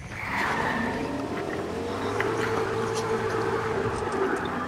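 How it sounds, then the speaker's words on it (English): A car drifts with its tires skidding and squealing in a steady, continuous screech over engine roar. The sound is moderately loud and holds throughout without a break. "Dude, stop drifting"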